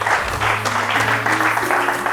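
A church congregation applauding and cheering for the Lord, with dense sustained clapping mixed with raised voices and cries filling the hall, loud and continuous.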